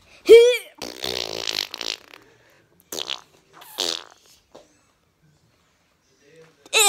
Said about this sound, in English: So, I'm gonna fart.